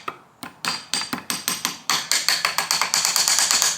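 Rapid metallic hammer blows on a seized chainsaw piston, about twenty sharp strikes speeding up into a steady fast rhythm, close and loud.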